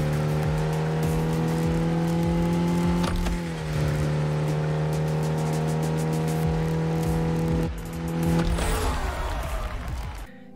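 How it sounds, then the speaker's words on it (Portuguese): A race car in the mobile racing game Nitro Nation World Tour accelerates with a loud, steady engine drone, dropping pitch at two gear shifts before climbing again, continuous and close with no talk. "Ele vai acelerando sozinho e você troca de marcha no momento certo apostando corrida com outro carro."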